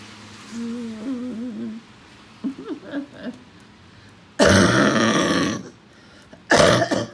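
Two loud, harsh coughs, a breaking-up cough, come close together near the end, after a quiet stretch with soft vocal sounds.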